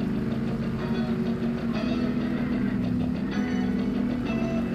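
A train in the Roblox game Jailbreak rumbles past with a steady low mechanical drone and faint rhythmic clacking, loud and continuous throughout.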